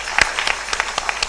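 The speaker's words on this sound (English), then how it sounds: "A big round of applause for Dr." A gala audience gives a short burst of applause, scattered individual claps standing out briefly and closely.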